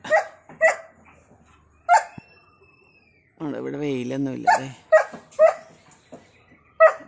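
A puppy gives scattered short, high yips and barks, with a drawn-out whimpering whine in the middle, while a person talks nearby.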